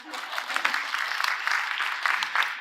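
Keynote audience at a conference breaking into applause, dense, even clapping that holds steady throughout with no talk over it.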